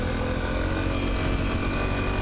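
A 2017 Honda CRF250L Rally motorcycle rides over rocks, its single-cylinder engine a loud, close, steady chugging rumble that stays even and unbroken throughout.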